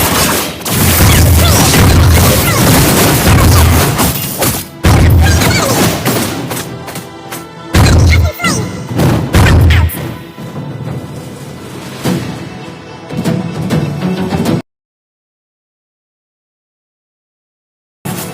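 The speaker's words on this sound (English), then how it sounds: "Our turret is under attack." Mobile Legends turret under attack: loud, dense game-combat sound with repeated booming thuds, crashes and mechanical clatter for about fourteen seconds, then a sudden cut to silence and a brief return at the very end.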